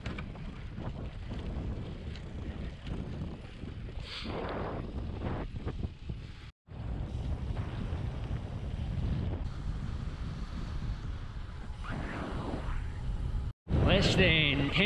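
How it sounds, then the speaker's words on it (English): Steady headwind roaring across the microphone while cycling a mixed-surface gravel event near Hahira, Georgia, a loud continuous low buffeting rush with brief dropouts and no talk. "It's been solid headwind most of the return leg back towards the start of the event."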